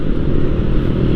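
Motorcycles pass along a road in Bulacan, their low engine drone steady and fairly close, a continuous rumble dominated by low tones with no voices.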